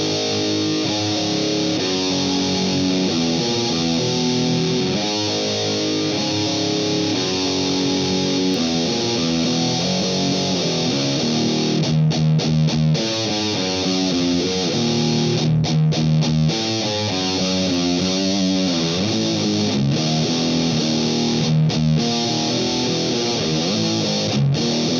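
Electric guitar run through a BOSS Metal Zone distortion pedal at moderate gain, loud and buzzing, with chugging riffs and sustained chords played alone.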